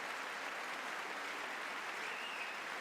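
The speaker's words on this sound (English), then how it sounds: "Why is he clapping?" Applause during the 2024 State of the Union address, a steady, distant wash of clapping from a large chamber crowd without any pauses.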